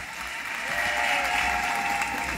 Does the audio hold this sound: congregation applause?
yes